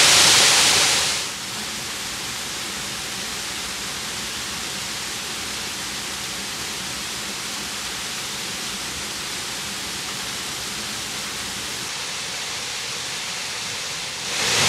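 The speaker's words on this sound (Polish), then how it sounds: "Wodospad Zaskalnik w Beskidzie Sądeckim, jak się wam podoba?" The Zaskalnik waterfall in the Beskid Sądecki mountains gives a steady, broad rushing roar of falling water, even and unbroken for the whole stretch. A brief louder burst comes at the start and at the end.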